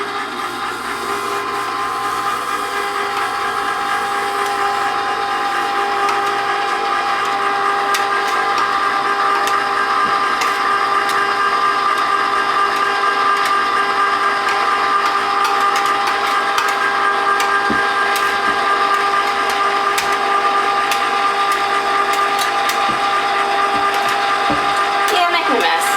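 Homemade frozen yogurt maker running with a steady, loud mechanical whir and hum throughout, with occasional small clicks and rattles on top and no talking.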